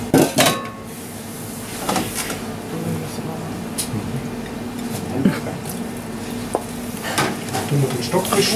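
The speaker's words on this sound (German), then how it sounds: "Tun wir den Stockfisch schön anbraten." Stockfish frying in a pan at a home cooking evening, with a steady sizzle running throughout and clinks of utensils stirring and scraping the pan.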